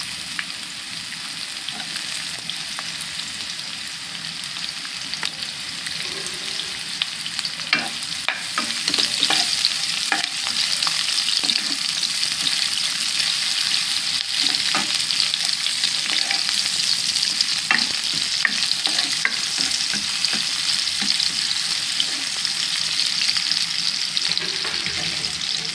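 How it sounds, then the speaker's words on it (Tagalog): Onions sauté in oil in a pan for misua noodle soup, giving a steady, close sizzle that runs for the whole stretch, with occasional stirring clicks and the hiss swelling a little partway through. "maglagay na tayo ng oil sa pan at igisa na natin yung sibuyas"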